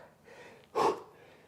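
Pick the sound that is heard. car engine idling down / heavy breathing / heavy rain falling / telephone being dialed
heavy breathing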